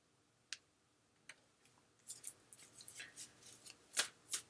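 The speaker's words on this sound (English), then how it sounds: "So we'll go ahead and shuffle" Soft papery flicks and snaps of tarot cards being shuffled, a few scattered at first, then quicker and denser bursts, quiet and close.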